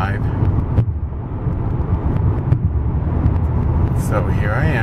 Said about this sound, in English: So here I am. I'm driving.